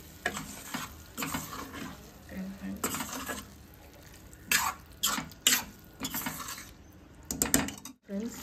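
Yogurt being stirred into gravy in a pan, with a spoon scraping and clinking against the pan in repeated uneven strokes over a low cooking background and a faint voice.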